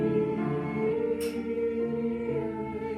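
A choir sings a sustained phrase in a classical setting, voices blended into rich held chords that shift gently over a few seconds, with a brief breathy onset midway.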